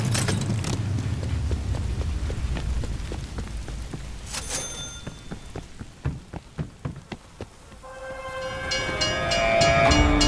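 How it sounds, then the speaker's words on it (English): Train passing in Call of Duty: Black Ops Cold War, a rumbling approach followed by a rapid run of sharp rhythmic wheel clacks over rails, then a loud screeching roar as it rushes by, with rain falling throughout. "After surviving so much, getting hit by a train is scary."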